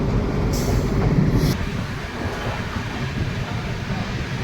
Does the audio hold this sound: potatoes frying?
no